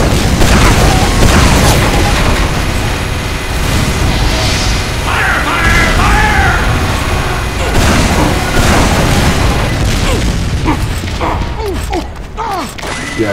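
Explosions and battle noise in Team Fortress 2: a loud, dense, continuous wash of booms, mechanical clatter and pops, with game voice lines mixed in, thinning slightly toward the end.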